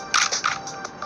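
A series of quick electronic clicks and bright shutter-like chirps from a camera triggered remotely through an Aurga wireless gadget, several sharp bursts in about a second, close and fairly loud.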